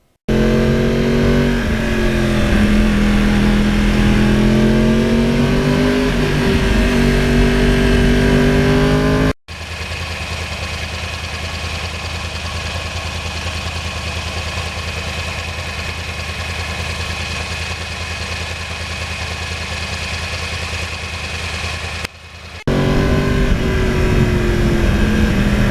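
Yamaha R1 crossplane motorcycle engine, close and loud, revving with rising and falling pitch before settling into a steady idle, with a brief cut partway through and no talking.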